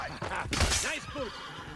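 A horse neighs in Assassin's Creed Brotherhood, two arching whinny calls rising and falling under busy game background noise and faint voices.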